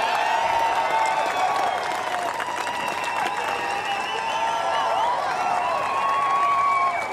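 A large crowd cheers and applauds steadily for Tom Ingram, 2025 British Touring Car Champion, at Brands Hatch, a dense sustained roar of clapping and whistles.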